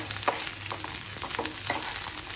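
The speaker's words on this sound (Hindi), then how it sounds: "भूनना है अच्छे से तड़के को।" A tadka of green chilies, red chili and garlic frying for palak paneer, a close, steady sizzle broken by light repeated stirring scrapes, with no voice.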